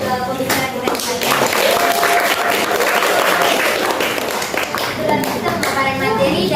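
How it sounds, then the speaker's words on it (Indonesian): An audience applauds a speaker at a community outreach session on reusing waste materials in a neighborhood office, with steady clapping that swells and fades over a few seconds while a voice talks over it. "Sekali lagi kita berikan aplaus ke pembicara kita saja."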